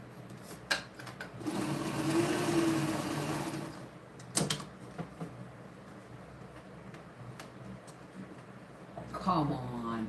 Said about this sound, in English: I'm just going to sew 2 of these browns together.